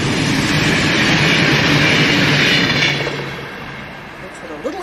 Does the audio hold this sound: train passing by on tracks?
yes